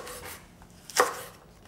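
A kitchen knife cuts through a fresh red pepper in a single crisp chop against a board, close and clear after a soft rustle, with no voices.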